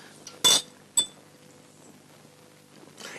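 Two glasses clink together in a toast, one bright chime followed by a second lighter tap, close and clear in a quiet room with faint rustling afterward.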